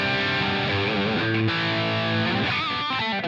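An electric guitar played through a Line 6 Helix with reverb on, delay off and no Scream 808 overdrive: a loud sustained chord with ringing harmonics that shifts once, heard alone.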